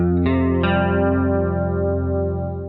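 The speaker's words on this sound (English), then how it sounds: "She did the sus chord like this." Electric guitar sustains a sus chord from a song intro, played clean with chorus and echo; two quick strums ring out into a long, steady, shimmering chord with no voices.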